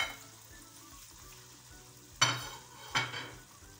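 About half a glass of water is poured into a pan of fried prawns and onions, giving a quiet simmer that breaks into two sudden loud hissing sizzles, one after the other, near the end.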